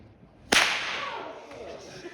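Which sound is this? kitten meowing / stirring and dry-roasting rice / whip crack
whip crack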